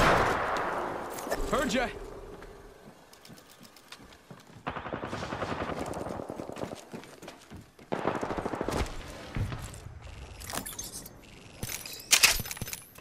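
Gunfire in the video game Apex Legends, season 8: bursts of rapid shots and single cracks come in several loud clusters across the clip, with brief speech and game noise between them.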